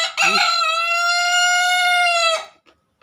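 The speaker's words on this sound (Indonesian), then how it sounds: "Dia dari tadi kokok terus nih, minta diperhatiin" A rooster crows once, close and loud, a long bright drawn-out call lasting about two seconds before cutting off into quiet.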